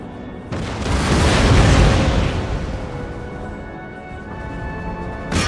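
Artillery fire in the Total War: Empire strategy game, a heavy deep boom that swells and rolls for a couple of seconds before fading into a lingering rumble, with another sharp onset at the very end.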